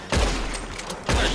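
Gunfire in the video game Red Dead Redemption, a burst of rapid shots at the start and another salvo near the end, loud and close with a rumbling tail between.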